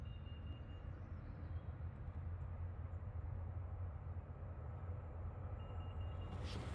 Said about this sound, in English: The trains, that's one thing, you get used to that.